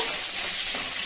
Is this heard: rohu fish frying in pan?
yes